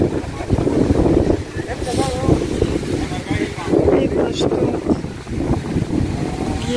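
Strong sandstorm wind gusting across a hotel grounds by a pool and palm trees in Hurghada, Egypt, roaring and buffeting the microphone steadily throughout while voices talk over it.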